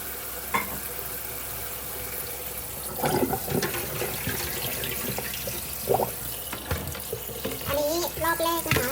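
Mushrooms being washed in water in a home kitchen, a steady close rush of splashing and running water with occasional clinks and sloshes, no talk.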